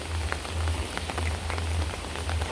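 Morning rain falls steadily on outdoor surfaces, an even, continuous patter with scattered drip taps and no voices.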